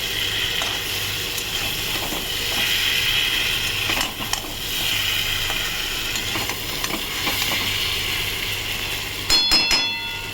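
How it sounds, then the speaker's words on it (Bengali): Fish being stirred in a frying pan for papdha macher jhol, with a steady sizzle of hot oil and scattered scraping strokes, plus a louder clatter near the end. "ভালো করে নাড়াচাড়া করে নেবো।"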